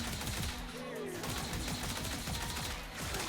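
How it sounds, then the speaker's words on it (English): Automatic weapon fire in the video game Warframe: a rapid, steady stream of loud shots runs for a few seconds without pause, close and dense, with no talking over it. "let's take a look at the auto fire"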